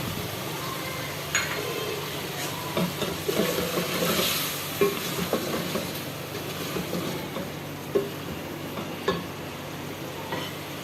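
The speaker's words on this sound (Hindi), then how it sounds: "अब देखें ये जो है मसाला ये भुन रहा है।" Masala fries with potatoes and green chillies in a pan for palak chicken, a steady soft sizzle under repeated scraping and clinking stirs, moderately close, with no talk.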